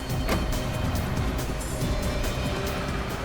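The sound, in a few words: car being driven fast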